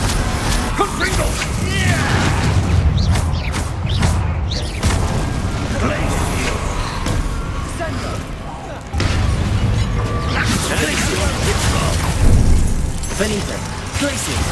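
Repeated Confringo explosive spell blasts in the video game Hogwarts Legacy, booming bursts and pops layered over steady combat noise and game speech, with a denser, louder stretch in the second half.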